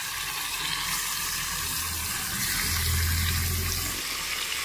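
Marinated chicken dropped into hot fried spice paste in a pan, giving a steady loud hiss and crackle of sizzling that continues evenly throughout, with no talking.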